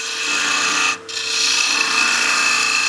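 Woodturning scraper cutting wood on a lathe, undercutting a rim through a small opening: a loud, close, steady rasping scrape with a brief drop in the middle before the cut resumes.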